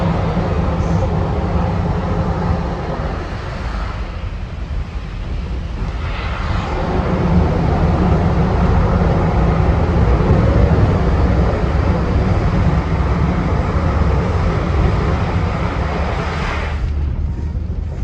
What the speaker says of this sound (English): While the train pulls into Hill City, please stay seated until we have come to a complete stop.